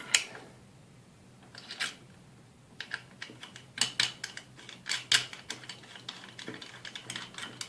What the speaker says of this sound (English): You just want to tighten both cap nuts until the mechanism is nice and sturdy